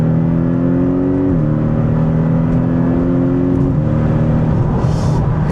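A Porsche 718 Boxster GTS poodling along at low speed, its engine a steady, rough-edged drone that steps down in pitch twice as gears change, close and continuous with road rumble underneath.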